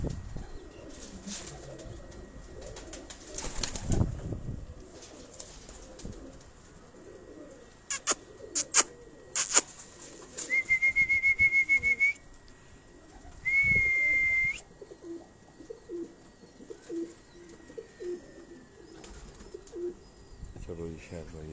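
Breeder pigeons, including a Ferozpuri female, coo softly in a loft, with low murmuring coos, a few bright chirps and brief wing flaps, while someone talks intermittently nearby.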